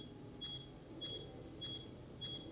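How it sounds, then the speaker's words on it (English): A video game's warning alert sounds as four short, evenly spaced electronic beeps, faint against a low background hum. "Fortunately, we just got the beep beep noise until somebody locks us with a missile."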